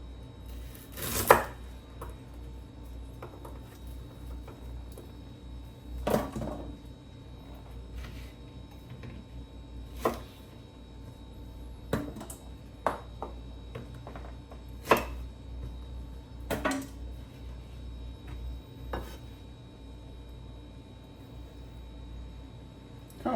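A chef knife chops okra on a cutting board in sparse, sharp, distinct knocks spaced several seconds apart. The blows are close against a quiet room.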